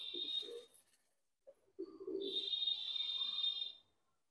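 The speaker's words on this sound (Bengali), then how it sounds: "এই একটা পায়রা আমি তোমাকে দেখাচ্ছি" Madrasi pigeons kept in a home loft cooing in soft low bursts, two short calls separated by a brief pause, near and fairly quiet, with a thin steady tone running alongside and no talk.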